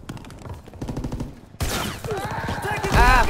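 Thompson submachine gun firing in Call of Duty WW2, loud rapid automatic bursts with the fire growing denser and louder partway through, other battlefield noise mixed in.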